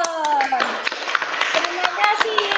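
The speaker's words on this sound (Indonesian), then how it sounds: "tepuk tangan untuk dia" A class of primary school pupils gives a round of applause, a patter of many scattered claps under a teacher's voice and children's chatter.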